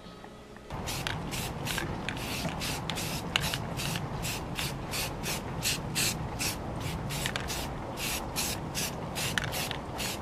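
Self-etching primer is sprayed from a can onto raw aluminum and steel parts of an FZR motorcycle under restoration, in a long series of short, close hissing bursts over a steady background hiss.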